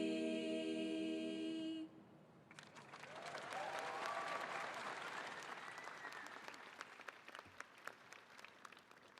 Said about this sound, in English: Let's give one more round of applause for Serendipity.